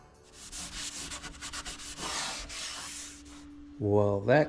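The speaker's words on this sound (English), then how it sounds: "Over the dry and I'll sand it." Sandpaper rubs in repeated rhythmic strokes across the surface of a hearse during a strip-down, a close scratchy scraping that runs for a few seconds before a tonal squeak or whine at the end.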